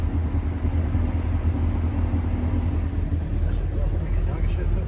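A stock 2017 manual Chevrolet Camaro SS 1LE with a V8 of about 530 horsepower gives a deep, steady low rumble from close by, cruising through the city. Voices can be heard faintly over the engine.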